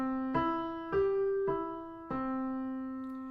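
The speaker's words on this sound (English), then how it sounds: "just an arpeggio. It sounds like this." Four notes of an arpeggio ring out one after another on a sustained, tonal instrument, each struck clearly and left to decay, with no talking.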